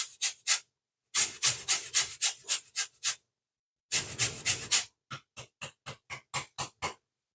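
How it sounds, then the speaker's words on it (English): Lemon zest grated over a bowl of sugar, close up: repeated short scraping strokes in quick rhythmic bursts with brief pauses between, no talking. "So with the sugar, I'm going to put some lemon zest over this."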